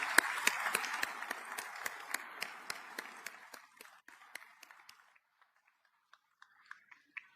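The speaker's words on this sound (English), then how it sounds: "So a round of applause for Tony" Applause for Tony at a U.S. Strategic Command change-of-command ceremony, faint and distant. A soft patter of hands thins out within a few seconds, leaving only scattered, isolated claps before fading into quiet.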